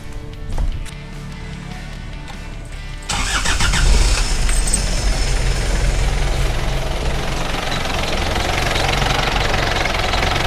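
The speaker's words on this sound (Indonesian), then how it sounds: "Oke, coba saya nyalakan dulu" A Chevrolet LUV pickup engine cranks and fires at about three seconds, then settles into a loud, steady rough idle with a knocking, vibrating rumble, heard alone up close during radiator work.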